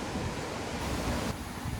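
Strong wind buffets the microphone outdoors at a busy campsite, a loud, dense roaring rush that stays constant throughout with no voices.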